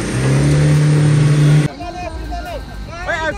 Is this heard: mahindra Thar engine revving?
yes